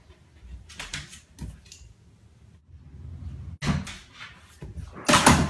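A door is shut in a home with a dog nearby: a few sharp knocks and clunks, the loudest near the end, separated by quiet gaps with low rumble.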